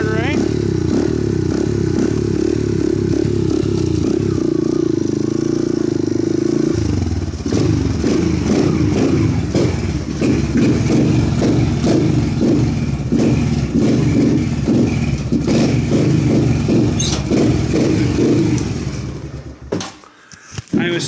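A Suzuki DR650 or Honda CRF150 motorcycle engine started up and running close by, a loud steady thumping idle that shifts in rhythm partway through, with occasional clatter and people talking over it before it cuts off.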